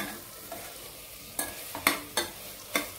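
A spoon scrapes and stirs a coconut spice paste being sautéed in a pan for vegetable pulao, with four sharp stirring scrapes over a faint, steady sizzle close by.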